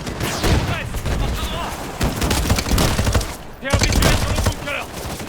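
Rapid, loud machine gun fire rattles in sustained bursts during a Modern Warfare campaign battle, with dense gunfire throughout and a player's voice talking over it.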